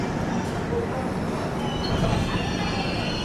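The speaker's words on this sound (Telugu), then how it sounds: "ఎర్రగుంట్ల జంక్షన్కి మన ట్రైన్ ప్లాట్ఫామ్ 1 అయితే వచ్చింది" The Tirumala Express rolling into Yerraguntla Junction platform 1 with a dense, continuous rumble of wheels on rails and faint squeals.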